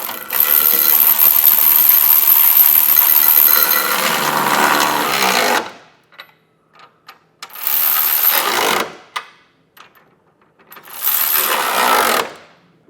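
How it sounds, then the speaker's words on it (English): Socket wrench snugging the bolts of a Curt trailer hitch receiver on a 2024 Subaru Forester, heard as three loud, close bursts of rapid ratcheting, one long and two shorter, separated by near silence. "Now we're going to take a 19mm socket and snug up all of our hardware."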